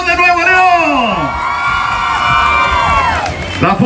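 A live audience cheers for a band at a radio-broadcast performance in Hidalgo, Texas: loud, close whoops and long gliding yells rise over the crowd noise.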